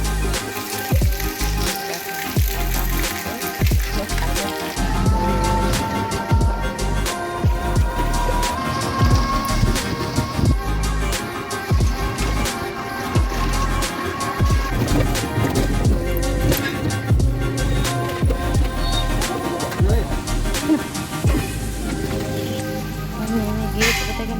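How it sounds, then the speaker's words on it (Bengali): Steady rain pours down outdoors at a roadside in Bengal during a downpour, a dense continuous hiss with occasional vehicle rumble and faint background voices throughout. "আরও জোরে বৃষ্টিটা হবে এখন তো বৃষ্টিটা একটু কমেছে"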